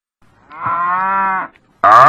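A cow gives one loud, close, drawn-out moo, standing alone in quiet, with another sudden sound cutting in right at the end.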